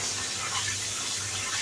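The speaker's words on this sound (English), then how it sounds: "Wash rice thoroughly because we are not going to again throw off all the" Rice being washed by hand in water for a Moghlai biryani, heard as a steady splashing, sloshing wash that stays close and even throughout, with no talking.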